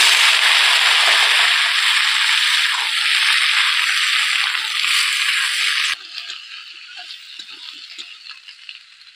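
Kohlrabi and potatoes hit a hot oiled pan in a village kitchen, bursting into a loud, dense sizzle that holds steady for several seconds and then drops sharply to a quieter, crackling fry.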